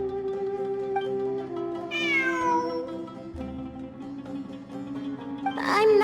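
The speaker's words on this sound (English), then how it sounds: "I'm not hearing things. It really is a cat." A cat meows within the Genshin Impact video game, a drawn-out rising and falling meow over steady background music, then a second shorter cry near the end.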